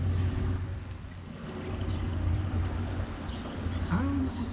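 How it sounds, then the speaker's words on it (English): A 1500 sand pump runs steadily beside a stock tank pool, giving a constant low motor hum with a faint watery wash over it, close and unbroken, with one brief rising whine near the end. "Well, pump's up and running,"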